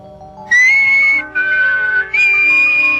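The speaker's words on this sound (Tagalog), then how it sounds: "Oo. Ganito ang sipol." A person whistles three clear sustained tones, the first high, the second slightly lower, the third rising back up, each held about half a second to a second with short gaps, loud and close.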